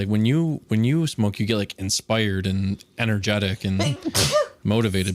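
A single sharp sneeze bursts out suddenly near the end of a casual stretch of conversation, close and loud, with speech continuing around it.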